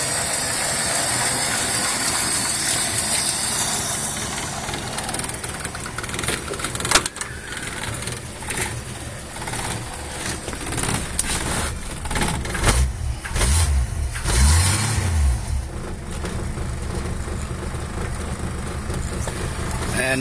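A warmed-up Ford Falcon Futura engine runs at a steady idle, close by, with a constant mechanical chatter and rumble. A brief voice can be heard over it.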